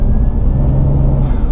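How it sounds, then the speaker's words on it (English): A turbocharged Toyota Aristo accelerating hard, a steady loud engine drone with a thin rising whine above it, recorded close and continuous with no voices. "when you want to put your foot down, all hell breaks loose and turbos happen"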